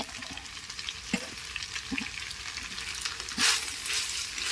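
Spicy pork stir-fried with cumin leaves in a wok, a soft steady sizzle with a few stirring knocks and one brief louder hiss burst near the end, no talking.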